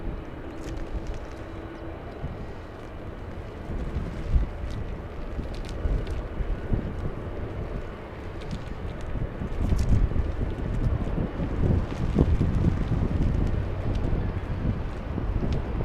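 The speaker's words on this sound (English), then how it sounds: "We have Alaska Airlines. Alaska 350 flying in from Portland, Oregon." An Alaska Airlines jet, flight 350 from Portland, Oregon, comes in to land at Los Angeles International Airport as a distant, low engine rumble, largely buried under constant wind buffeting on the microphone.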